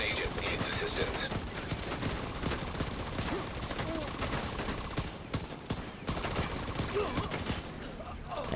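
Dense, continuous gunfire in The Division 2, rapid overlapping shots and bursts filling the whole stretch with only brief gaps, while a voice talks over it.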